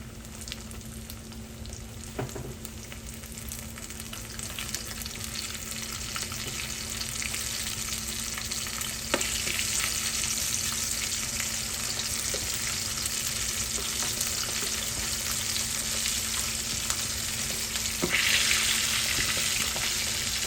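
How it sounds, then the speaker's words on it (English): Chicken wings for sweet chili wings frying in hot oil, a steady bright sizzle and crackle that runs continuously, with a few sharper pops and spits along the way and no talking. "See that nice little sizzle we got from the oil?"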